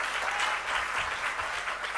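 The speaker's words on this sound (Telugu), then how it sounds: "ఇస్తే ఒకసారి చప్పట్లు కొడదాం" A church congregation claps together in steady, sustained applause, dense and even throughout with no voices standing out.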